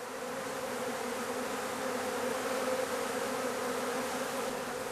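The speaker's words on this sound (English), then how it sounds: "We've got a few bees in the air, but there's no doubt that they're all gonna end up in this box by the time we leave." A honeybee swarm drones as it enters a hive box, a dense continuous buzzing hum of many bees that stays steady and close throughout, with no talking.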